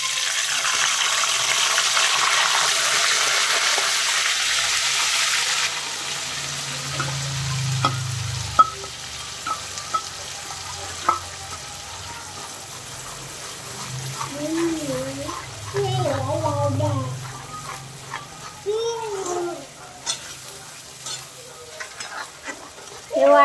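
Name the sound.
ground masala paste sautéing in oil in a kadai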